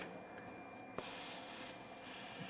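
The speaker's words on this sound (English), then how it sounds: "loosen this nut to let the air of the right air suspension to be released so we can work with it" Pressurized air hisses out steadily after a nut is loosened on the right rear air suspension of a BMW 520d F11, the release starting abruptly and continuing as a close, even rush.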